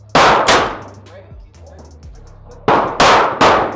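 Big bore semi-auto airgun shots from a BinTac rifle, loud sharp cracks: two quick ones at the start, then three more in fast succession near the end, with a quiet pause and faint sounds between.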